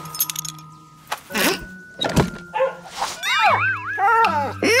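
A dog gives short barks and whimpers, mixed with thuds and clattering, close and fairly loud, with bursts of other sounds around it.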